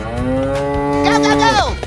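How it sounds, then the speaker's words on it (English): A cow moos in a 3D animal slide video game, one long loud close moo that bends downward at the end over faint game background. "Cow."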